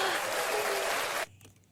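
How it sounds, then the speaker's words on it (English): A sustained burst of applause from a podcast audience, dense and steady, that cuts off abruptly, leaving near silence. "Should we applaud?"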